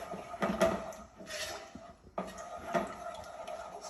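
Egg being stirred into fried rice in a pan, with scattered scraping and clinking of a utensil against the pan, a few sharper knocks separated by quieter gaps.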